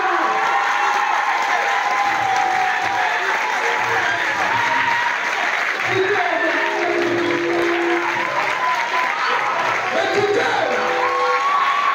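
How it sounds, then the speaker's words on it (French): Audience at a youth literary prize ceremony clapping loudly and continuously, a thick steady wash of applause with scattered cheers and a few voices calling out beneath it. "On applaudit très fort"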